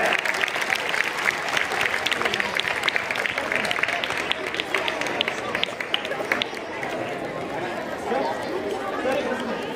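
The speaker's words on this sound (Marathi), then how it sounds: "जोरात टाळ्या" A school crowd at an annual prize-giving ceremony claps loudly in a dense, sustained burst of applause that thins out toward the end, with chatter mixed in.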